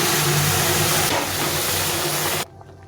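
Cooked shukto dal with vegetables poured into a hot spice tempering, giving a loud, steady, close sizzle that lasts about two and a half seconds and then cuts off abruptly.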